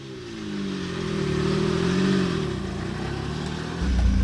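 A noisy classic show car pulls away for a spin around the grounds of Beaulieu, its mid-pitched engine droning loud and close, swelling as it revs and holding steady before rising again at the end.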